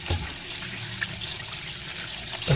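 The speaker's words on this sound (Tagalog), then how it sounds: "Tapos hugasan natin uli para mawala yung alat ng ating gagawing kimchi." Water running from a tap over salted cabbage being rinsed for kimchi, a steady close splash and trickle for a couple of seconds, ending in a louder gush.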